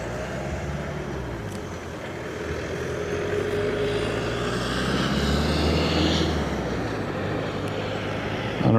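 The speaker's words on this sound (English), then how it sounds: "I can actually hear the planes" Aircraft operating at Dublin Airport, a broad steady roar rising slightly in the middle, distant and continuous with a faint whine, no voices.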